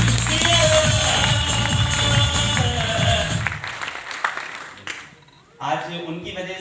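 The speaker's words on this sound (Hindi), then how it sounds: "मैं चाहूंगा मिस्टर अजीत सर के लिए और मुकेश सर के लिए एक बार जोरदार वाली ताली होनी" A crowd at a business gathering bursts into loud, sustained clapping for Ajit and Mukesh, and the applause fades after a few seconds before voices and room noise pick up again.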